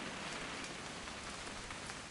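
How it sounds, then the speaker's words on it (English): Steady rain hisses in a video game during a weekend hunting trip, a dense, even wash of drops with no voices. "It's gonna rain the whole weekend,"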